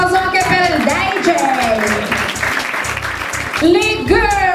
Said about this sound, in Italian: un applauso anche per il DJ!